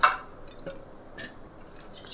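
Quiet wet dripping and splashing of water with a few soft squishy handling sounds as lamb leg pieces are washed, close by and without talk.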